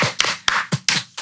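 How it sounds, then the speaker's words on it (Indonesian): A few loud, close hand claps in applause for Andina Julie, irregular and spaced out in a brief burst, with no one talking over them. "Tepuk tangan dulu Andina Julie."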